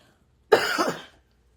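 A single sharp cough, close and fairly loud, rising out of silence and fading within a second.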